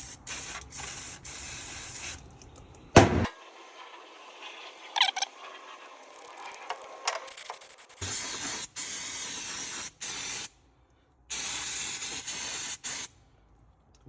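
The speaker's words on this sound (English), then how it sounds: "I'm going to start with some intake decarb spray from Liquid Moly." Liquid Moly intake decarb spray jetting from an aerosol can onto the intake manifold of a Ford 3.2 diesel engine, several loud close hissing bursts of varying length separated by pauses, quiet rustling and handling noises in between.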